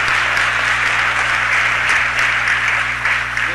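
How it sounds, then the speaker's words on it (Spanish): Dense, steady applause fills a Los Angeles city council chamber during a meeting, with many hands clapping at once at close range for the whole stretch. "Un aplauso, señor Koretz"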